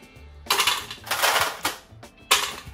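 Ice cubes clatter into a container while a post-run drink is made, three bright, close clattering bursts with short pauses between them and no voices.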